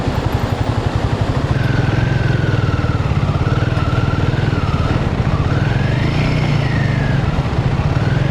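A Hero Xpulse motorcycle, a lightweight bike, climbs a mountain road with roadwork nearby in the Mustang region of Nepal, its engine thrumming loud and close with a steady throb and rising revs.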